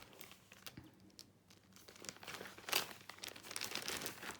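Paper banknotes, a 20-euro note, rustle and crinkle as they are handled and slipped into a small binder, a soft close crackling that swells briefly near the middle.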